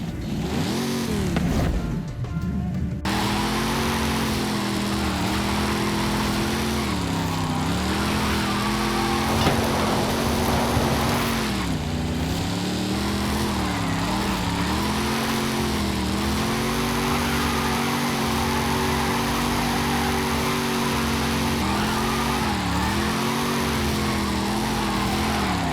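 Dodge Charger engine in Forza Horizon 5 drifting, a loud rising and falling rev held throughout with repeated throttle swells, close and steady, no talk.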